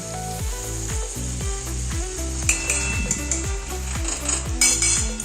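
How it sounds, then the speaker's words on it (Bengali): Tomato is stirred in a cooking pan with a spoon, making rhythmic scraping and clinking strokes about twice a second over a light sizzle. A low steady tone continues in the background. "এই টমেটোটা দিয়ে এরপর আমি বেশ নেড়ে নেব।"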